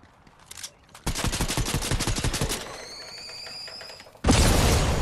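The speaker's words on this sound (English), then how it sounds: "I got killed by my own explosion then" Video game combat: a sharp rattling burst of rapid automatic gunfire, then a quieter tonal stretch, followed by a loud booming explosion near the end.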